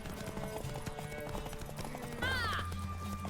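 Horse hooves clip-clop steadily in The Witcher 3, an even trotting rhythm, followed by a loud horse whinny near the end with a low drone underneath.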